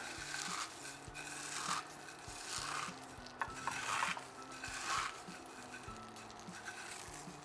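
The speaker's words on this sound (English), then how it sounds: "Crush up our cornflakes." Cornflakes being crushed and stirred in a skillet with butter: soft, quiet crunching and scraping in irregular strokes, with faint pan clatter and a gentle sizzle underneath.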